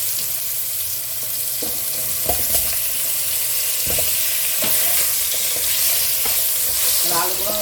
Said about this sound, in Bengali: আলুগুলো আমি ভালো করে ভাজি